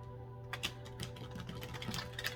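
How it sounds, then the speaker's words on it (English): Tarot cards being shuffled by hand, a run of quick papery riffles and taps at close range, fairly quiet over a faint steady hum, with no talking. "I'm going to do one more for good measure"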